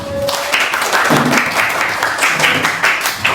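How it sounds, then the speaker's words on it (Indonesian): Students in an Islamic history classroom applaud a group of classmates, a continuous, moderately loud patter of many hands clapping with slight surges throughout. "Beri tepuk tangan untuk kelompok 1"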